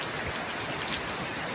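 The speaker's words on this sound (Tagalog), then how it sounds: "Yan, lakas ng ulan" Heavy rain pours steadily, a dense, even hiss of drops striking surfaces close by, with no voices and no break in the downpour.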